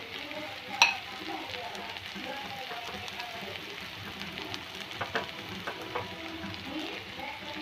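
Spices stirred into a sizzling pan for egg curry, with turmeric and coriander powder added: a steady frying hiss with scattered scraping clicks from stirring and one sharp clink near the start, at moderate level.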